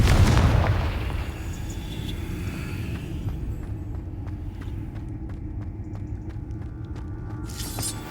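A Confringo fire spell blasting in the Hogwarts Legacy video game, opening with a loud booming explosion that rumbles and fades into a steady low roar, followed by faint ticking and a brief bright flare near the end.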